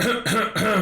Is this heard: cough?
yes